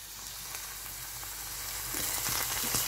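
Garlic sizzles steadily in hot fat alongside spring onions in a pan, a dense continuous frying hiss that grows slightly louder toward the end, with faint scraping stirs and no talk.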